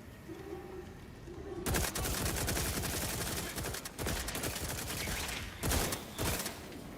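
Loud, sustained gunfire from The Outer Worlds video game, with dense bursts of rapid shots from about two seconds on and sharper blasts near the end, following a quiet stretch.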